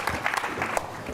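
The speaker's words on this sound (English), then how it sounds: "Please give a huge round of applause for these guys" Audience applause at the Bitcoin 2022 conference mining stage, a short burst of scattered clapping from a crowd, fairly close and brief.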